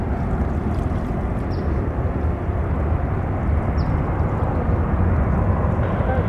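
A Hawaiian Airlines Airbus A330 taxiing at San Francisco airport, a steady broad jet engine roar holding at a constant loud level from a moderate distance.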